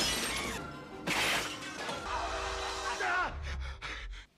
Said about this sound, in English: In the future, we can all look forward to glass that easily breaks.